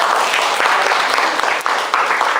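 Dense, loud classroom applause from students in a catfish broodstock selection lesson, a continuous burst of many hands clapping for a couple of seconds with no voices over it.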